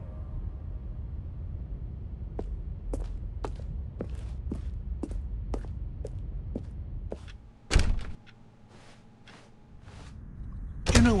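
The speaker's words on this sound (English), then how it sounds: "please step through this door" Footsteps tap evenly across a floor in The Stanley Parable video game, then a door thunks open or shut with a heavy clunk, followed by more sparse steps and a second knock-like thud.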